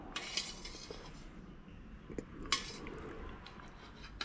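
A spoon scoops plum pulp out of plum syrup in a pot, giving faint metallic clinks and scrapes with soft wet sounds between them, quiet and close.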